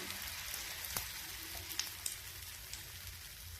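Jaggery roti batter is spread and cooked over low heat in an oiled pan, giving a soft, quiet sizzle with scattered small crackles and taps.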